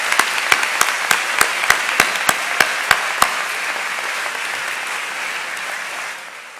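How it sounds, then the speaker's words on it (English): An audience at a high school honors ceremony applauds honored students, a steady wash of many hands clapping, with one near clapper giving sharp regular claps early on before the applause fades out. "Please join me in giving these students a well-deserved round of applause."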